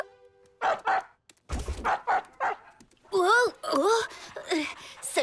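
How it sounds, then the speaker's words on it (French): A cartoon dog gives several short, bright yips and barks. They come in quick bursts between sections of speech, close and fairly loud. "Salut, comment ça va, le chien?"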